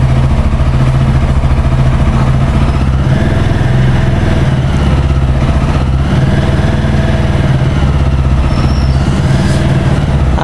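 A TVS Apache 160 4V Special Edition 2022 motorcycle engine runs steadily and loudly up close, its revs held raised toward roughly 3000 RPM, with a continuous buzzing drone and no speech.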